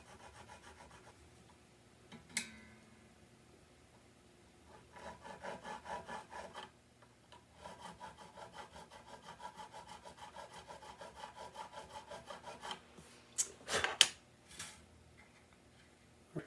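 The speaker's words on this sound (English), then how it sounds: "I'm just going to give this a little file here" Small file working a guitar nut slot where a string catches, heard as quiet, close runs of quick rasping strokes in several bursts, with a few sharp clicks and taps between them and no talking.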